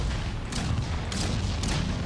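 Three bursts of gunfire from a weapon in a first-person shooter game ring out in quick succession over a steady wash of background noise.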